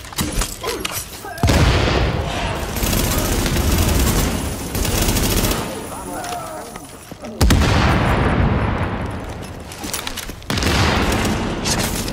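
Bursts of rapid gunfire from the game The Division beta on Xbox, loud and dense, with brief lulls between volleys and a voice talking over the shooting.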